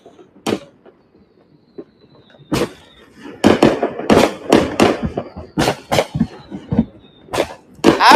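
Fireworks and firecrackers bang repeatedly in Omaha, a ragged series of sharp, loud explosions, some single and some in rapid clusters, with a few fainter distant pops between them.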